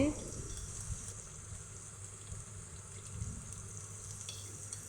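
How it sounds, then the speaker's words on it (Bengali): Ginger and garlic paste fries in oil, a faint, steady low sizzle with a few soft stirring sounds, quiet and continuous. "আদা বাটা এবং রসুন বাটাগুলো দিয়ে আমি একটু ভালোভাবে নেড়েচেড়ে তেলের মধ্যে ভেজে নিচ্ছি"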